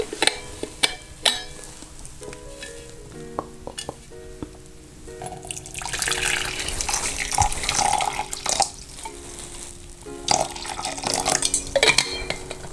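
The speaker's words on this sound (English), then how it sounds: "So this is boiling water in here." Boiling water pours into a container for a fenugreek hair mask, followed by stirring, with clinks of a utensil against the vessel and splashing that rises and falls; no talking.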